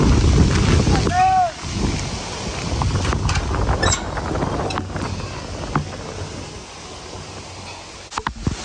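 Strong typhoon Uwan winds roar and buffet the microphone in heavy gusts that ease toward the end, with people talking over the rushing air.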